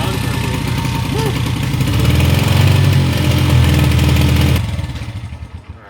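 A 1990s Honda XR100 dirt bike engine runs close by with a rapid, clattering idle that swells briefly and then cuts off, fading away at the end.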